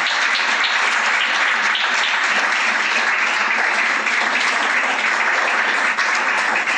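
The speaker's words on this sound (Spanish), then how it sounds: "Aplaude la gloria de Dios" A church congregation claps together in a dense, unbroken roar of applause that stays loud and even from start to finish, close by.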